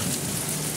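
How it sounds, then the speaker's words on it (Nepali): Sudden rain pours down after sunshine, a dense, close, continuous hiss of drops hitting surfaces with no voices present. "यहाँ पानी पर्दैछ"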